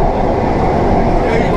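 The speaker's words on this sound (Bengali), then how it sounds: "আমরা ট্রেন এই মুহূর্তে এগিয়ে চলেছে টুয়ার্ডস হাওড়া স্টেশনের দিকে।" Inside Kolkata's underwater metro running beneath the Ganges between Esplanade and Howrah, the carriage fills with a loud, continuous rumble and roar of the moving train, steady and unbroken.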